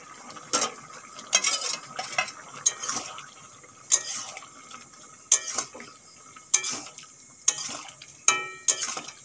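Spoon scraping and clinking against a pan while bottle gourd is stirred for lau chingri, giving about eight sharp, separated knocks spread over a few seconds.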